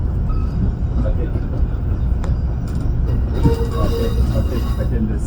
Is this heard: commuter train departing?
yes